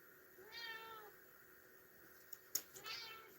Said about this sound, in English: my cat's saying good morning to you guys.